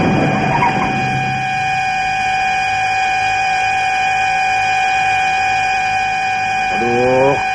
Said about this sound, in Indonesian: Klakson bunyi terus.